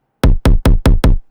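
Five kick drum hits from the FL Studio stock sampler after processing, punchy with a bright click on the attack and a heavy low boom, struck in a steady row with nothing else sounding.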